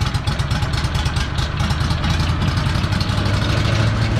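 A small pull-started landscaping equipment engine runs steadily at a low idle, a loud, close, continuous rumbling chug with a fast even pulse and no talking.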